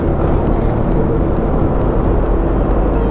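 Steady traffic on the busy Quirino Highway main road, with a continuous rumble of many passing vehicles, close and even throughout.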